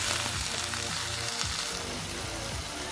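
Spinach fries in hot bacon fat with a steady, loud, dense sizzle and crackle that fills the whole stretch, close up, with no voices.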